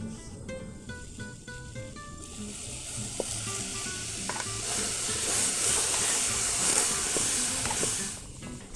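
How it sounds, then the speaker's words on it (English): A roux of milk, flour and butter sizzles and hisses steadily in a pan on medium heat while being stirred, with a faint scraping under the frying bubble; no voices. "Stir the roux over medium heat until smooth."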